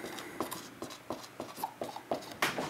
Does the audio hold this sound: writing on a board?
yes